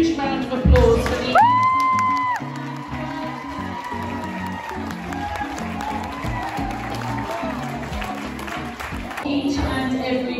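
A prom crowd applauds and cheers loudly and steadily through the stretch, with whoops rising over a bed of music and a brief tone sweep near the start.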